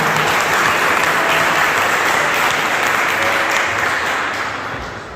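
A church congregation applauds during an evening worship service, loud dense clapping that stays steady and gradually fades toward the end.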